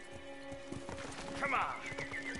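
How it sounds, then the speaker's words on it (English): Horse hooves clop in a rapid galloping rhythm in the samurai video game Ghost of Tsushima, accompanied by a horse's whinny and game effects, all fairly faint beneath talking. "I'm gonna mount on this random horse and get a kill."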